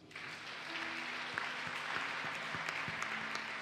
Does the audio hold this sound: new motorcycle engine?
no